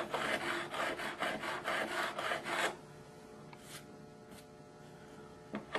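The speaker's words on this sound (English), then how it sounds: "This one was sticking up a little bit take a little bit more uh, filing to get this uh, where we need it" A metal file scrapes along a guitar fret in quick, regular back-and-forth strokes, close and crisp, then stops, leaving quiet room tone with a few faint taps.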